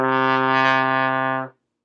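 A single sustained trombone note, a C, steady and full-toned, held for about a second and a half before stopping cleanly.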